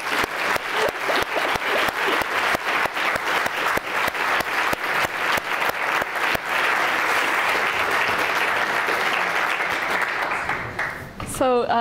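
Sustained audience applause at an academic celebration, dense and steady for about ten seconds before fading as a voice begins speaking.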